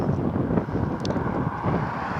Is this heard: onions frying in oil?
no